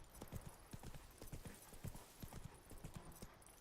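Horse hooves clip-clop in the Witcher 3 video game, a brisk, steady trot of soft repeated thuds over a constant background wash, with no voices.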